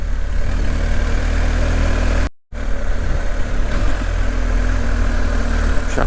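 A motorcycle engine hums steadily and loudly while riding along a road through the Dâmbovicioara gorge in Romania, cutting out briefly for a moment before resuming its constant drone, with no speech.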